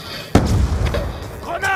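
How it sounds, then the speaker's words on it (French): A flash grenade goes off in the video game Black Ops 2, a sudden sharp bang followed by a noisy rumbling tail, loud and close, with game sounds and voices mixed in. "Grenade flash."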